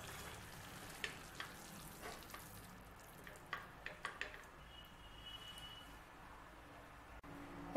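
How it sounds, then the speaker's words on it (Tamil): Boiled egg is stirred into spicy noodles frying in a pan, giving a faint sizzle with scattered soft scraping and clicking strokes from the utensil, quiet and close. "சேர்த்துட்டு லைட்டாக ஒரு பெரட்டு பெரட்டிடலாம்."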